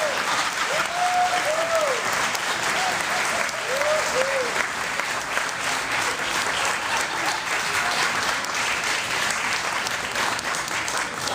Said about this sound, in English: this round of applause is all for you